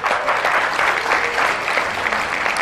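A television studio audience claps for a band, dense sustained applause from many hands, loud and even throughout with no voices over it.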